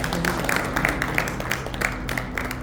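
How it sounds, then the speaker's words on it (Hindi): Audience clapping at a book launch event in Solan, a steady burst of applause from a seated crowd filling the whole moment at moderate loudness. "एक बार जोरदार तालियां बजाइए"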